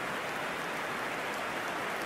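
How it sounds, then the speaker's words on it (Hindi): Steady simulated rain hisses in an eFootball match, a dense, even wash of drops that runs unbroken and fairly loud with no voices over it. "चलो बारिश हो रही है"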